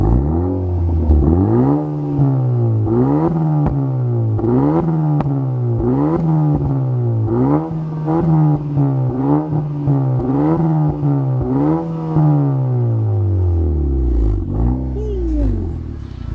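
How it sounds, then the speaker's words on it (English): Revving of a 2018-or-later Honda Accord with a DC Sports aftermarket exhaust, heard up close as a loud series of rising and falling throttle blips repeating in a steady rhythm over a deep exhaust tone. "All right, go ahead and rev it."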